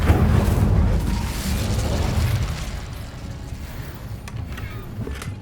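Incendio fire spell cast in the Hogwarts Legacy video game, a loud whooshing burst of flame that roars at the start and gradually fades into a softer crackling rumble over several seconds.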